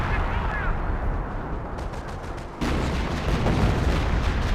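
Heavy artillery fire in Company of Heroes, booming rumbles layered over continuous battlefield gunfire, loud and sustained throughout with a sharp new blast midway.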